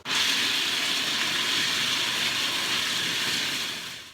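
A blender grinds nuts into a coarse meal for a Linzer pie crust, giving a steady, loud, hissing roar that runs unbroken for about four seconds and then tapers off, with no talking.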